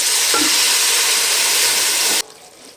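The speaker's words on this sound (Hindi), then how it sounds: "इसका अच्छे से जो है वो मसाला भून लेंगे।" Loud, steady sizzling of spice paste frying in a hot pan for dal makhani, with a faint stir partway through, cutting off abruptly near the end.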